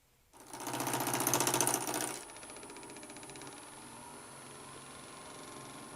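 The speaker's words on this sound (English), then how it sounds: "for that I'm going to use a small bowl gouge. This is a 3/8 inch bowl gouge." A wood lathe with a 3/8-inch bowl gouge cutting side grain. The loud, rapid, buzzing cut starts abruptly and lasts about two seconds, then drops back to the steady hum of the spinning lathe.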